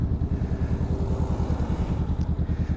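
A 2023 Honda Rebel 500 cruiser motorcycle engine thrums in a steady, even pulse while riding, loud and close, with wind noise around it.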